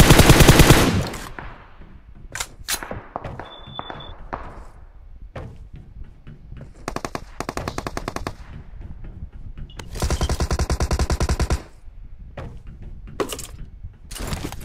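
Gunfight in a battle royale video game: several loud bursts of automatic gunfire and single shots, some close and some more distant, separated by brief quiet gaps.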